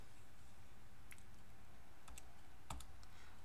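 Buttons pressed on a TI-84 graphing calculator, a few faint, sharp plastic clicks spaced apart over a quiet room hum, with no talking.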